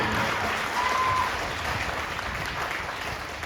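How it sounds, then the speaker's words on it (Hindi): Dense applause from a crowd, steady and fairly loud throughout, with no speech over it. "मेरी माँ के लिए बस जोरदार ताली होनी चाहिए"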